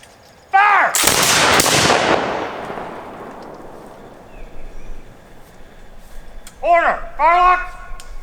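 A loud volley of musket fire from militia reenactors at a battle commemoration cracks out at once, then rings and decays over several seconds, with birds chirping afterward.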